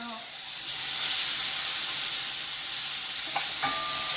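Garlic fries in a pan with a loud, continuous hissing sizzle heard close up, and a voice speaks briefly over it near the end.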